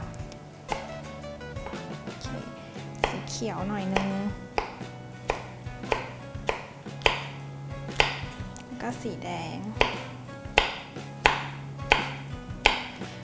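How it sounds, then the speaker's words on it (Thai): A knife chops chili peppers steadily on a cutting board, the taps growing sharper and more regular, while someone talks briefly over the cutting. "เวลาเราหั่นนะคะ ให้หั่นเฉียงนิดนึงนะคะ"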